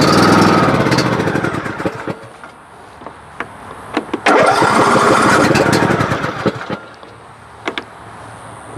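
A small engine on a newly bought shop machine whose carburetor needs cleaning sputters and revs loudly nearby, dropping off and surging again in uneven bursts with clunks and knocks between.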